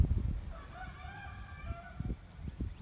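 Outdoors in spring weather during maple sugaring, a rooster crows close by, its call rising and falling over rough low rumbling noise.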